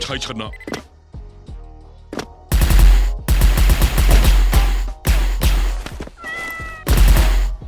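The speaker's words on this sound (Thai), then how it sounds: "น้องแมวกระโดดยิงไปแล้วจังหวะนี้ไปเลยครับ" Cartoon cat character in the mobile shooter SF Cat Gun fires loud, rapid bursts of gunfire after a few meows and game tones, with repeated volleys separated by short pauses and a voice talking over the action.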